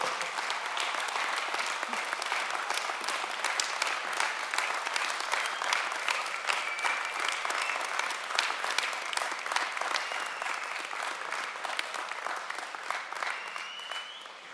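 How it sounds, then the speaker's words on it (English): A university commencement audience applauding the graduates, with continuous crowd clapping sustained at an even level for the whole stretch and a sharp individual clap standing out now and then. "thank them and applaud them for all the support they have given you"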